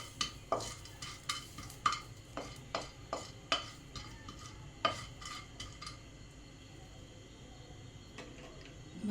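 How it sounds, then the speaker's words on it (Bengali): Whole black pepper, cinnamon, cloves and cardamom are stirred in a dry pan, making a series of quiet, sharp scraping and clinking ticks at an uneven rhythm that thin out toward the end. "এবার আমি কিছু গোটা গরম মশলা শুকনো খোলায় ভেজে নেব।"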